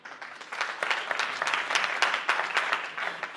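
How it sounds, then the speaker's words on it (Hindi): An audience breaks into applause at a talk, a dense steady patter of many hands clapping at moderate distance throughout, with no voices over it. "सभी तालियां एक बार"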